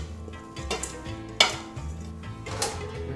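Eggplant salad tossed in a bowl, with soft clinks and scrapes of a utensil against the dish and a few sharper knocks, close and moderately loud, no talking.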